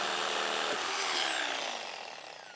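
A power tool whines loudly close by while cutting through a metal door hinge, a steady high-pitched grinding that holds briefly and then gradually fades.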